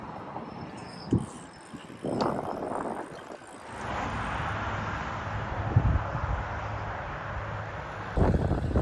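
Strong headwind roaring across the microphone of a touring cyclist riding across Canada, a steady broadband rush with gusts and buffeting, dips and swells, a louder sustained stretch through the middle and rising again at the end.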